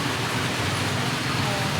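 Steady rain pours down outdoors in a broad, even hiss that stays loud and unbroken from start to finish, with no other distinct sounds standing out.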